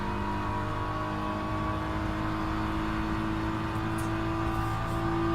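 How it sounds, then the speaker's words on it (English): A race car engine in the Le Mans Ultimate racing game drones steadily and loudly at a constant pitch for the whole stretch, with no one talking. "It's definitely a bit easier to drive when you can actually hear the car."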